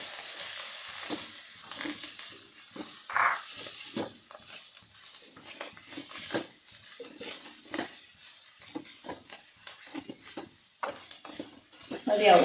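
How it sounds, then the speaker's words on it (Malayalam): Onion sautés gently in a pan with grated coconut and coriander leaves, a soft continuous sizzle broken by repeated spatula stirs and scrapes against the pan, with a person talking over it. "തീരെ അങ്ങ് ഫ്രൈ ആവേണ്ട, ചെറുതായിട്ടൊന്ന് ഉള്ളി വാടി കിട്ടിയാൽ മതി."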